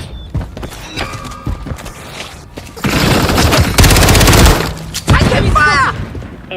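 Gunfire in the Call of Duty Black Ops 6 video game: bursts of automatic fire and shots crackle in the foreground, loudest in a dense sustained volley midway, with in-game radio voices and other game effects around it.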